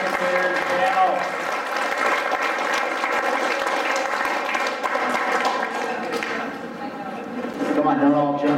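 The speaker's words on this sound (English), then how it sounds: "Another round of applause for the Pathways prognosticators panel" Audience applause for a panel at a quiz-style event, a steady full round of clapping from a room of people lasting several seconds, close and continuous, easing slightly before a final swell.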